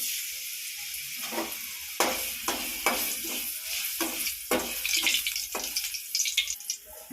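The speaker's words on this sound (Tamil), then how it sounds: "இந்த பருப்பா புதினா ஊருக்காக எண்ணெய் ஊற்றுறேன்" Oil goes into a pot for a bitter gourd and mango kuzhambu, with tamarind in the pot: a sputtering sizzle with repeated stirring scrapes and splashy bursts, close and moderately loud, with no voices.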